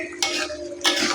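Meat stirred in a cooking pot, two short scraping, clinking strokes of a utensil against the pot over a quiet background hum.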